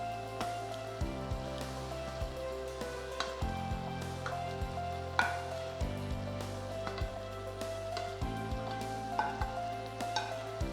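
Fried chicken added to a pan for Kashmiri chilli chicken sizzles steadily, with repeated clatter and scraping of a utensil over the hiss, close and fairly quiet, without talking.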